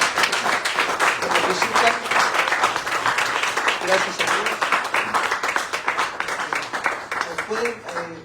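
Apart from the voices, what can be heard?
church audience applause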